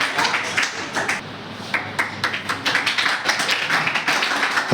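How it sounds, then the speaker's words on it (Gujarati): A school hall audience applauds to welcome guests at an event, a steady mass of sharp hand claps that rises and falls at close range, with no talk over it. "આપણે બધા તાળીઓના ગળાથી બધાને વધાવીએ."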